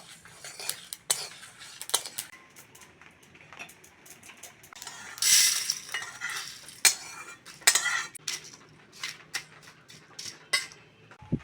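Whole spices for a raw amra pickle roast dry in a pan. Scattered sharp pops and crackles combine with the scrape and clink of a stirring utensil against the metal, close and irregular, with no talking.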